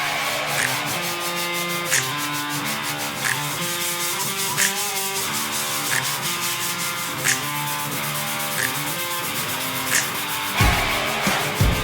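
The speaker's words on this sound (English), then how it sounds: "Everything's sanded for the first coat." Power sanding of a bathroom wall surface during drywall finishing for a first coat, a steady broadband whir running continuously near the microphone with faint periodic ticks, cutting off briefly near the end.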